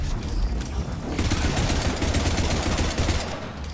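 An enemy turret in Mass Effect 3 firing loud, continuous rapid bursts of gunfire that dense up into a steady barrage lasting several seconds.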